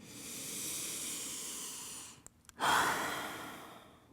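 A slow, deep inhale through the nose during a yoga flow, then a short pause and a louder, breathy exhale close to the microphone.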